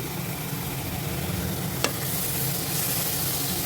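Yogurt is stirred into vegetable biryani masala in a pot, giving a constant close sizzle with soft stirring noise and one sharp click of a spoon against the pot partway through, no one talking.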